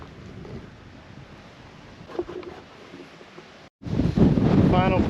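Gusty wind rumbles against the microphone on a mountain ridge near the summit of Mount Olympus, quieter at first, then surging into a strong, close buffeting roar near the end.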